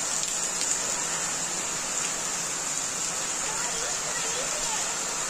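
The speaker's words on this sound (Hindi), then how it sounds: "नीचे बहुत तेज बारिश भी शुरू हो गई है।" Steady heavy rain hisses evenly throughout, a dense continuous wash of falling water with no breaks.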